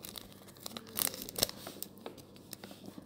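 A small plastic bag holding holographic nail-art foil crinkles and rustles softly in a quiet room, with a few sharper tearing crackles in quick bursts.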